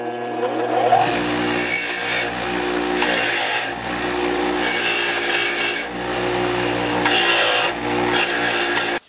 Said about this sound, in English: Now I'm also going to run the bottom engine pan on my wire brush.